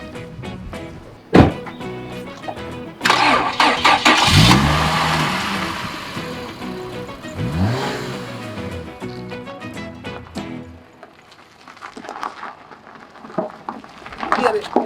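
A car engine turns over and revs, with several rising bursts of acceleration, a few sharp thunks and bangs, and the engine settling into a quieter idle toward the end.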